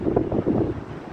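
Gusty wind buffets an outdoor microphone on a day in Rockwall, Texas, a loud, rumbling, uneven roar that swells and dips throughout with no voices.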